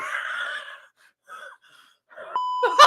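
A sustained censor beep tone cuts over speech on a live food podcast during a hot sauce tasting, a steady pitched bleep near the end following breathy reactions and gasps.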